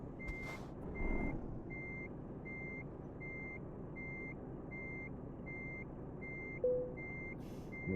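Heavy truck reversing in Euro Truck Simulator 2, a steady series of about eleven evenly spaced electronic beeps over a low diesel engine rumble, with a brief air hiss near the end.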